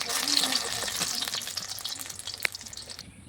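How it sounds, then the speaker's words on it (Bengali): Ash gourd fritters frying in a pan of oil, a steady bright sizzle throughout with faint stirring clicks and one sharp tap near the end. "এখানে আমার চাল কুমড়োর ভাজা হচ্ছে"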